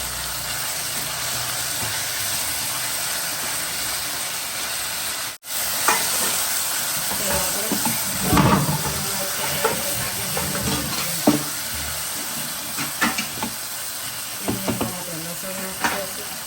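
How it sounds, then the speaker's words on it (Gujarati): Tomatoes cook in hot oil for a green chickpea curry, giving a steady close sizzle and hiss with occasional stirring scrapes and clinks; a brief pause breaks the sound early on. "ટમેટાને આપણે તેલની અંદર ચડવા દઈશું"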